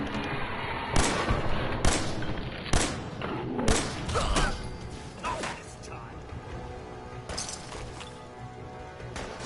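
Pipe sniper rifle shots in the game Fallout 4: several sharp, loud booming reports spaced about a second apart, with thuds and crashes between them and game dialogue underneath.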